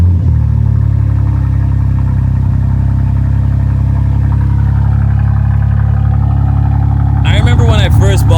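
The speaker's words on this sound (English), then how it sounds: "let's get a bit of a cold start. Again, of course, with the AWE track exhaust." A modified BMW G80 M3 with an AWE track exhaust, cold-started, settles into a loud, deep, steady idle rumble that runs throughout, with a brief burst of other noise near the end.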